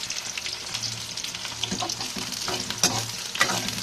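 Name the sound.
green chillies frying in hot oil with onions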